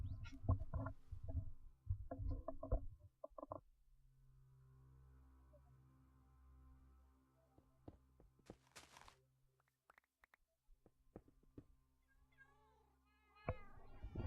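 Short cat meows from Minecraft, heard as a few faint, brief calls scattered over low game hum and sparse clicks, without speech.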